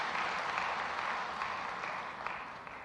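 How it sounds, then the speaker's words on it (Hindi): Audience applause at a public event honouring Pandwani performers, a continuous wash of clapping, moderately distant and fairly quiet, tapering slightly toward the end. "मैं तो चाहूँगा कि दोनों के लिए तालियां बजाकर हम उनका अभिनंदन करें"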